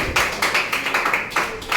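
Students in a classroom clapping together, a brisk run of rhythmic hand claps in quick bursts, close and moderately loud, with no talking.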